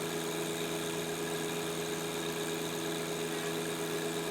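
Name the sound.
John Deere 2025R tractor lifting a pallet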